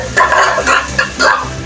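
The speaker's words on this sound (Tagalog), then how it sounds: "Nagigisa na ako." Onions sautéing in a pan, a steady sizzle with repeated scraping stirs in an uneven rhythm, close and fairly loud.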